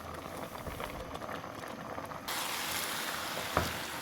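Mixed vegetables boiling in a pot of water for pulao, a steady, close bubbling roar that grows louder partway through, with one brief clank.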